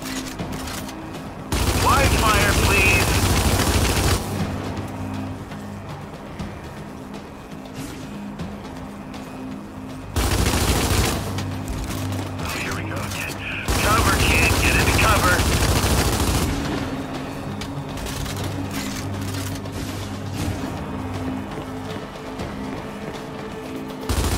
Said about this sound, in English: let's try using blind fire to destroy them while keeping yourself protected and covered